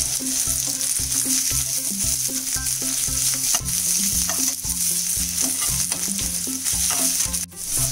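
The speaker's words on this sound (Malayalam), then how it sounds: "ഇതിലോട്ടെ കറിവേപ്പില ഇട്ട് കൊടുക്കും കേട്ടോ. എന്നിട്ട് നന്നായിട്ടൊന്ന് ഇളക്കണം." Curry leaves sizzling in hot coconut oil in a clay pot while a spoon stirs them in steady repeated scrapes, close and clear, with a constant frying hiss and no talk.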